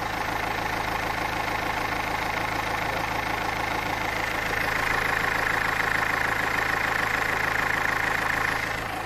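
A Renault Scenic 1.5 dCi diesel engine fitted with an HHO kit idles with a constant low rumble and faint rattling knock, continuous and close for the whole stretch, with no voices.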